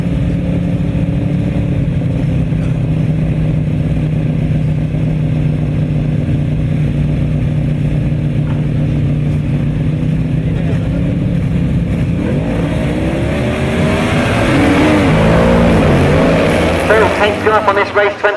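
Grasstrack sidecar motorcycles racing in a heat, engines droning steadily at a distance, then swelling into loud, revving passes close by as the machines sweep round, with a commentator talking over them.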